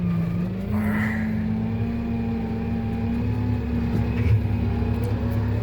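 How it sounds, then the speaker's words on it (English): A vehicle driving forward with steady engine drone and a low constant hum throughout, close and continuous, no speech. "now I'll just drive forward again."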